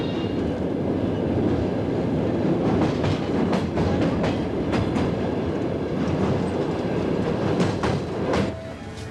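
The Trans-Siberian train to Vladivostok rumbles at a station, a loud continuous roar of rolling carriages with rhythmic clickety-clack from the wheels and a faint squeal near the end.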